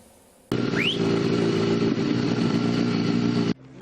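A loud racing motorcycle engine roars close by at a road-circuit race, a few seconds at a steady high pitch, then cuts away abruptly.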